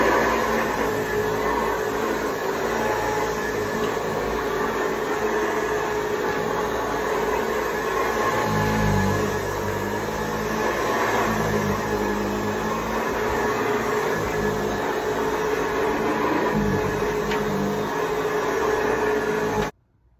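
A 1972 Hoover Model 918 commercial upright vacuum cleaner runs with a steady, loud, continuous motor roar and whine. It holds the same level for about twenty seconds, then cuts off abruptly.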